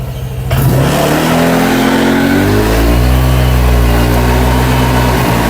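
Honda Click 125 scooter fitted with a TSMP Silent Killer exhaust, warmed up and revving hard, a loud, steady, close engine drone with rising and falling pitch sweeps and no talk.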